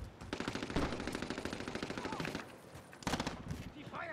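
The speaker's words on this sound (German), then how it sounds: "Wurde beschossen." Automatic gunfire in the video game Call of Duty: Modern Warfare, rapid bursts of shots in two stretches with a brief pause between, moderately loud, with voices talking over parts of it.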